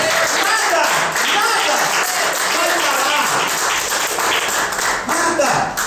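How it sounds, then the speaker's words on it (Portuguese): Church congregation applauds for Jesus during a sermon, a dense, sustained wash of clapping lasting the whole stretch with voices and cheers mixed in beneath. "Você vai dar um aplauso a Jesus por isso?"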